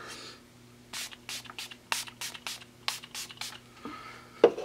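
A rapid series of about ten short, hissing bursts of Milani Make It Last setting spray misted onto a face, close by, in an uneven rhythm, followed by a soft rustle and a brief knock.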